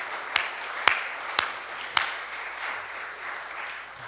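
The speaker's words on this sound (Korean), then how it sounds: "우리 송철회 권사님들께 감사의 박수하도록 하겠습니다." A church congregation applauding during a Sunday service, led by four sharp, close hand claps spaced about half a second apart over a soft, diffuse patter of clapping that fades out.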